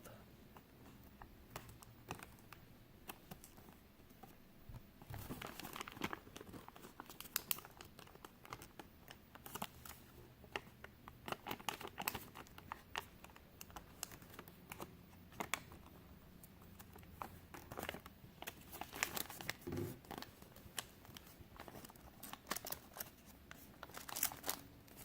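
Soft crinkling and creasing of a paper sheet being folded into an origami dolphin, quiet, close rustles and taps scattered irregularly through a long stretch, with no talk.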